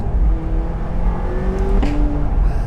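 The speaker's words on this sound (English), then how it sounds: "It gives the LT crack! The pop and crack on the upshift." McLaren 675LT V8 engine revving loudly up close, with a sharp shift point partway through where the pitch drops and a brief pop and crack bursts out before the engine pulls on again.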